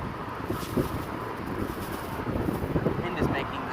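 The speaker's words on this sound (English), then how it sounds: "Wind is making this quite difficult." Wind gusts across a city bayou beside a steep concrete drop-off, a loud rumbling buffet on the microphone that swells and eases, with a voice talking under it.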